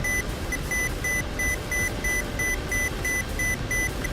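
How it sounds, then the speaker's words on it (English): Cockpit warning alarms in a Ka-50 attack helicopter in the DCS combat flight simulator, a steady run of high repeating beeps pulsing about twice a second over a constant low rotor and engine rumble. "I don't know what half these alarms mean."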